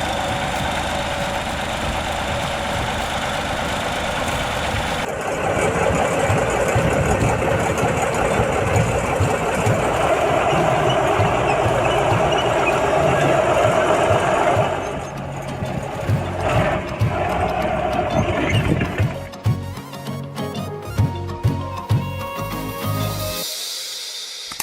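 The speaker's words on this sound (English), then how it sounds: "a YAMZ 236D3 6-cylinder, naturally aspirated liquid-cooled V-type engine with an operational power of 170 horsepower was installed in the tractor" A crawler tractor's YAMZ 236D3 naturally aspirated liquid-cooled V6 diesel with electric start runs steadily at a loud, rough idle, then the note changes and it clatters unevenly toward the end.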